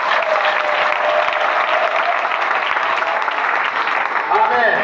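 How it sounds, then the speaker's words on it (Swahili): Congregation applauding loudly at a Sunday church service, dense continuous clapping close by with voices and a faint tone mixed in toward the end. "Mpe makofi mazuri"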